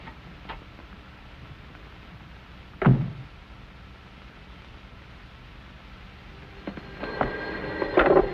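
A telephone rings in a 1945 film scene: after a dull thump, bright, close ringing bursts sound near the end over a quiet room, with no talking.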